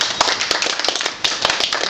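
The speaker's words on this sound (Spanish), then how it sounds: "un aplauso para el señor Beto Calvo." A live comedy show audience claps loudly to welcome a comedian to the stage: a dense, crackling burst of many hands with no voices on top.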